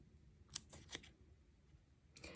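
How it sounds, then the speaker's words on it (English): A few quick, crisp snips of scissors cutting a shallow dovetail, isolated and close in a quiet room. "come in with your scissors and make a dovetail"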